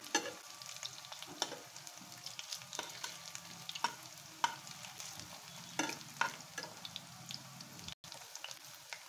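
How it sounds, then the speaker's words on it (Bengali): Chicken pakoras frying in a pan as they are turned over, a dense, crackling sizzle with frequent small pops and utensil taps, steady and fairly quiet. "আমি এখন এগুলা উল্টিয়ে দিচ্ছি চিকেন পাকোড়াগুলো"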